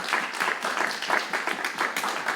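An audience at a school spring band concert claps for the clarinet players, a rhythmic burst of fairly loud applause holding steady with slight pulsing throughout.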